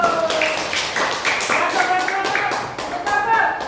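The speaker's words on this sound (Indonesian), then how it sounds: "Tepuk tangan tuh Bapak" A grade 5 classroom in Bangkalan breaks into a steady patter of many hands clapping, loud and close, with voices talking and calling over the applause throughout.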